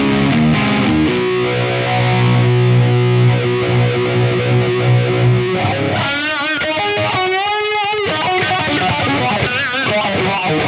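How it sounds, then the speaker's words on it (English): An electric guitar played through a TONEX Plug amp modeler with a phaser effect gives sustained distorted chords, then swirling, sweeping lead notes. The tone is loud and close, with no talking. "I want to add a phaser, so let's do that by simply switching the modulation pedal back on and selecting phaser"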